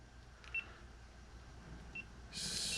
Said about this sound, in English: So I'm gonna turn all those beeps off.